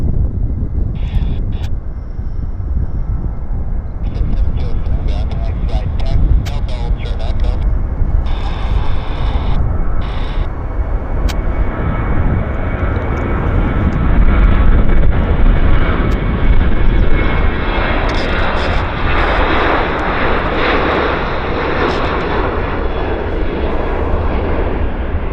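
An American Airlines jet rolls down the runway and takes off at Vancouver airport, its engine roar building steadily into a loud, sustained rumble and whine, with wind buffeting the microphone.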